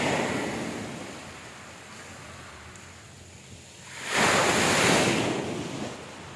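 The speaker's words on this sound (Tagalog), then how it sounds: "Lakas ng alon." Strong ocean waves wash steadily against the shore, then a loud surf surge crashes in and slowly recedes, with wind hissing throughout and no voices.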